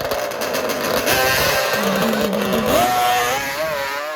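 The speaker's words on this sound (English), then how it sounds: "Kawasaki H2 750 on a lot of nitrous oxide" A Kawasaki H2 750 two-stroke motorcycle running heavy nitrous oxide races nearby, its high, buzzing engine note rising and falling through sharp revs, loud and continuous.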